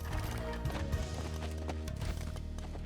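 Horse hooves clopping in the Age of Empires II strategy game, a run of quick, fairly close clip-clop beats layered over steady game music.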